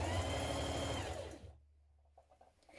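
Sewing machine stitching a 1 cm seam around the bottom of a teddy fabric Papercut Nova coat, a loud steady motor whir for about a second and a half, then stopping and leaving quiet handling sounds.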